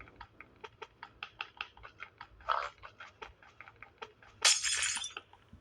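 Glass being broken, a series of quick small clinks and taps followed by a louder crunch and then a bright shattering crash near the end; close, alone with no talking.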